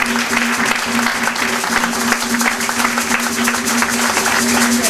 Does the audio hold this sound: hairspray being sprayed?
no